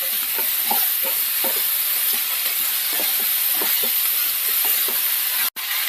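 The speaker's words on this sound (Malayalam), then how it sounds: "നന്നായി ഒന്ന് മിക്സ് ചെയ്യാം." A vegetable thoran being stirred in a pan, with a steady sizzling hiss and regular scraping strokes of the spoon repeating through the whole stretch, close and fairly loud with no talk.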